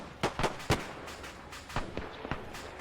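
Gunfire in an Arma 3 battle using the Iron Front World War II setting, British and German troops: about seven sharp cracks, spaced irregularly and heard at mid-distance, with the closer ones loudest, over a faint hiss.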